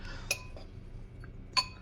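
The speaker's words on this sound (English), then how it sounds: "I'm gonna mix this up real quick, just get it nice and incorporated." Two light clinks of a utensil against a bowl while oats and peanut butter powder are stirred together, separated by faint scraping, close and quiet.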